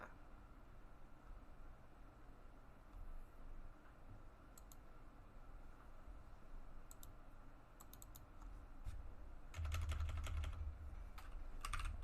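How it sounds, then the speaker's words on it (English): Someone types on a computer keyboard to enter a game name. The keys give steady, faint, rapid clicks over a low room hum, with a denser burst of keystrokes near the end. "just typing in the game that I'm going to play"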